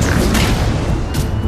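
Thunderbolt missiles exploding in the Iron Man VR video game, a loud, sustained booming blast that rumbles continuously for over a second with a brief crackling burst near the end.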